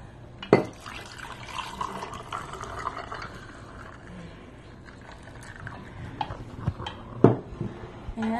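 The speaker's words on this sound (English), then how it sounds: "now I'm going to pour it over a cup with ice in it" A freshly mixed drink poured over a cup of ice, giving a steady liquid splash with sharp clinks and knocks at the start and again near the end.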